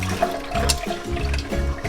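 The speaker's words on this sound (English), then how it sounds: "I'm going to spray the spinach with cold water just to cool it down." Cold tap water sprays steadily onto cooked spinach in a kitchen, a continuous close hiss and splash with no talk over it.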